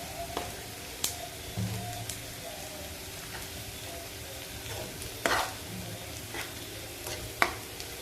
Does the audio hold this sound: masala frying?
yes